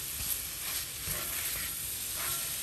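Shrimp with turmeric sautéing in a hot pan, a steady bright sizzle with soft stirring scrapes rising and falling, close and continuous with no talking.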